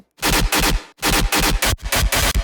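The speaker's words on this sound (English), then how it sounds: "And our gunshot basses alone sound like this" Dubstep gunshot bass sound played solo in a rock-dubstep production: loud, distorted, full-range bursts in three chopped phrases, each starting with a sharp transient and stuttering rhythmically before abrupt cutoffs.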